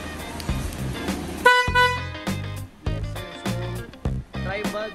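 An electric scooter fitted with a 16-volt 5Ah battery pack sounds its horn in short, repeated honks with pauses between them, close and fairly loud.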